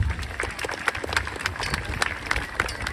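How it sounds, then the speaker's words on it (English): Student leaders at a school campus assembly are clapped for, with uneven, moderately loud hand claps in a hall and some low rumble and crowd noise underneath. "So give yourselves a big round of applause."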